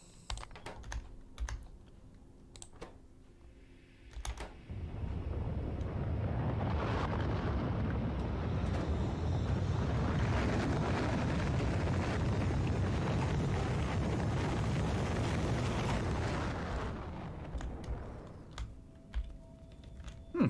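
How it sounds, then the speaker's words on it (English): A Factorio rocket launch swells into a loud, sustained broadband roar lasting about twelve seconds, then fades out, with soft keyboard clicks before and after. "I certainly haven't launched a rocket since they changed that sound"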